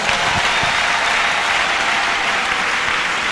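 A church congregation bursts into dense, continuous applause during a service, a loud, even wash of many clapping hands with no voices standing out.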